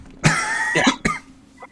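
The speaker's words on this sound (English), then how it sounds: "Sorry, that was a very out of character cough." A single loud, close cough bursts out with a harsh rasping onset, followed by a couple of rougher throaty coughing pulses and a faint trailing catch, heard alone without speech.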